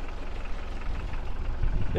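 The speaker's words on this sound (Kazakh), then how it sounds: "Мотордун үнүн уктуңуздар да. Дырылдайт жана кызылдайт." Low, steady rumble of an idling engine, a throbbing drone at close range with faint voices in the background.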